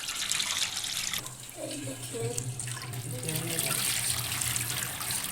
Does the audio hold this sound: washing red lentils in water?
yes